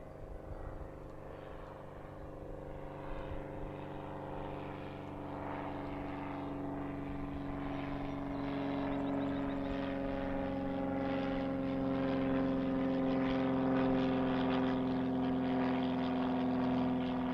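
An aircraft takes off at Allentown airport, its engine drone rising from a faint distant hum to a louder sustained roar that keeps building over the stretch.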